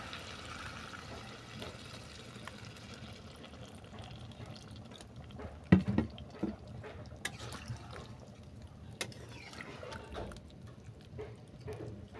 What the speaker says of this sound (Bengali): দিয়ে দিলাম পরিমাণ মতো জল